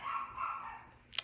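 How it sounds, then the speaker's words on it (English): A dog barks once, short and sharp near the end, after a stretch of steady room tone and faint background hum; it sounds somewhat distant, as if from another room. "I'm sorry, that's my dog."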